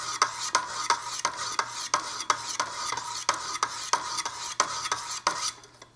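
A knife blade is drawn across a 400-grit stone on a Wicked Edge sharpener in even, repeated strokes, about a dozen gritty scraping swipes, close and crisp with no talking.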